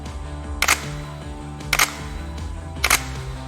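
Camera shutter firing at a very high shutter speed while shooting almost directly into backlight, three sharp separate clicks roughly a second apart, close and crisp over a steady low background hum.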